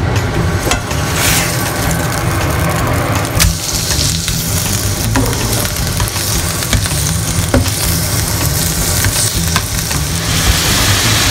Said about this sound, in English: So we should have this mince nicely browned in no time.